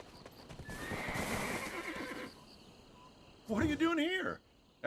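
Horse in the video game Black Desert: a steady run of hoofbeat clip-clops for about two seconds, then a loud, close neigh near the end, with ambient game atmosphere between.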